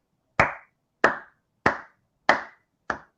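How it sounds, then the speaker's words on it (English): Five single hand claps ring out at an even, unhurried pace, each sharp, close and crisp, with silence between them and no talking. "I clapped."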